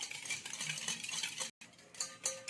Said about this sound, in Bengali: দুধেতে চিনিটা আমি ভালো করে গুলে নিচ্ছি